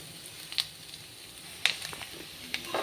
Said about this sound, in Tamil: ஸோ அதனால் தேங்காயுமே நான் கொட்டி ஃப்ரை பண்ண போகிறேன்.